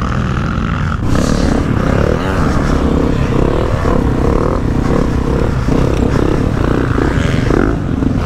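Motocross bike engine revving hard during a training session, a loud continuous high-compression roar with surging pitch and mechanical clatter throughout, close by.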